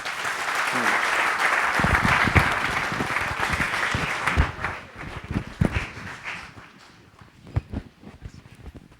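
Church congregation applauding during a worship service, loud sustained clapping that thins into scattered claps and fades toward the end.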